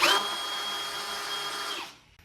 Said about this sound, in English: drill a hole in these